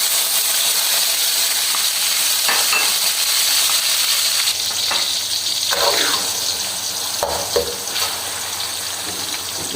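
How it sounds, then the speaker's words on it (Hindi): Finely chopped tomato and onion hit a hot pan for a village-style chicken gizzard and liver fry, giving a loud, steady sizzle with a few stirring scrapes and no talk. "सबसे पहले हम इसमें जो है ना टमाटर और प्याज कटा हुआ है ये डालेंगे"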